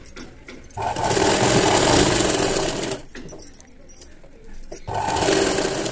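A sewing machine sews thread piping onto a square neckline in several loud, rapid bursts of stitching, separated by brief pauses.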